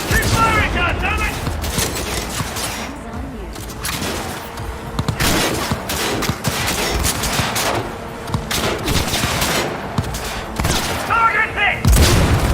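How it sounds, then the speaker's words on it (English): Sustained video-game gunfire from Cyberpunk 2077, with rapid automatic bursts and heavy booming shots that run loud and dense from start to finish, and voices shouting over the firefight. "Keep firing, goddammit!"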